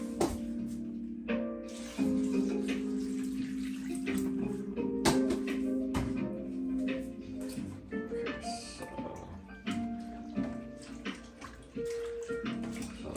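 Water running into a kitchen sink while rinsing food during home cooking: a steady splashing, gurgling stream with clattering and knocks of handling, mixed with some indistinct voice.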